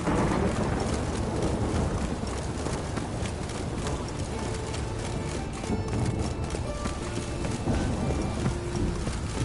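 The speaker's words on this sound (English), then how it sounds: "It's raining again." Steady rain hisses through the Witcher 3 game world, with a horse's hooves clip-clopping beneath it and an occasional faint distant rumble.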